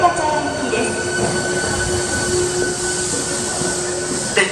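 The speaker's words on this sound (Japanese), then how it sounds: "1番線に到着の電車は天下茶屋行きです。" A Nankai 1300 series train pulls into Dobutsuen-mae station with a loud, steady rumble of wheels on the rails and a high, sustained squeal of wheels and brakes, close at the platform.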